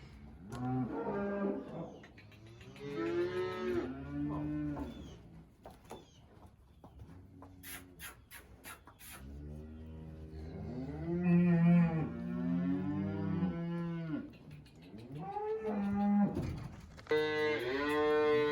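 Cows moo repeatedly, several long low calls overlapping one another, loud and close, with brief quieter gaps between bursts.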